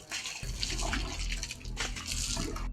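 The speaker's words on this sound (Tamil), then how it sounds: "தண்ணிய வேகமா ஊத்தினாரு." Water poured quickly over a person's head during a ritual, heard as a continuous close rushing splash with no talking.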